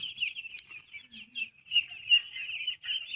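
A dense, continuous chorus of high, thin peeping from many 13-day-old ducklings close by on a duck farm, chattering steadily with no pauses.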